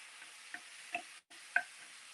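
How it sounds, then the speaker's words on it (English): Chicken cooking in a pan over slow heat gives off a faint, steady low sizzle, with a few soft clicks and taps near the start and end. "the chicken's cooking nice and slow on the slow heat."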